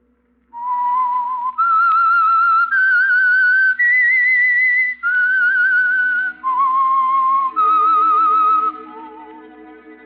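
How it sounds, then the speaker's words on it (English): A lone whistled melody, the theme of the old-time radio mystery program The Whistler, rises and falls in clear sustained phrases for about nine seconds, loud and close, with soft instrumental backing creeping in toward the end. "That whistle is your signal for the Signal Oil program, The Whistler."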